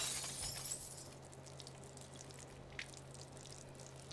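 Chemical bottles break on the floor in the South Park: The Fractured But Whole video game basement, a brief glassy shatter at the start that fades into faint scattered tinkling and drips.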